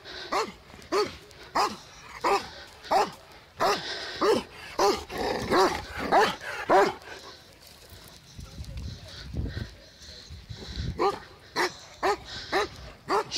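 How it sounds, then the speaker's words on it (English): A dog by the River Dee near Eccleston, Chester, barks repeatedly at a swimmer in sharp, evenly spaced bursts, close and clear, with a pause and some growling before the barking resumes; people talk in the background. "So good barking at her"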